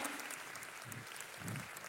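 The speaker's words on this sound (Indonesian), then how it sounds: "Tepuk tangannya boleh yang paling meriah buat Yesus Tuhan kita." A church congregation applauds for Jesus, a soft, steady patter of many hands clapping heard faintly from a distance, with a couple of low murmuring swells partway through.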